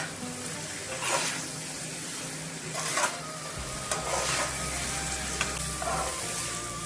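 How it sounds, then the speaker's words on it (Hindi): Kohlrabi curry with chili powder and a little water sizzles steadily in a pan, with a spoon scraping and stirring in periodic bursts and a low hum running beneath, close and moderately loud. "इसी तरह 2 मिनट और पकाएंगे मैं।"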